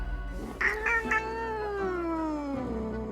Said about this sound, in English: the cat mutters an annoyed meow through her snores